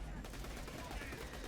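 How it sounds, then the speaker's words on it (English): Rapid automatic fire from a Vladof submachine gun in a shooter video game, a dense, continuous burst of quiet gunshots heard alone throughout. "It has pretty high fire rate, and the bullets ricochet off of surfaces."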